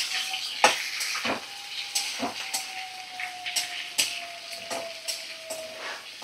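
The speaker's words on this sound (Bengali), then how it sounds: "মিডিয়াম ফ্লেমে রেখে 3-4 মিনিট ভালো করে ভাজা করে নিচ্ছি" Chopped onion frying in a pan over medium flame gives a steady close sizzle, broken by repeated scraping and stirring strokes and a thin whistling steam tone, with no talking.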